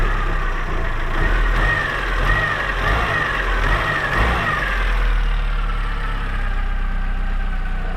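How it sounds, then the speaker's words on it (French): Small engine of a Peugeot 205 running steadily and loud, with a rising rev around the midpoint before settling back to a constant drone; no talking. "le petit moteur, on peut accélérer normalement"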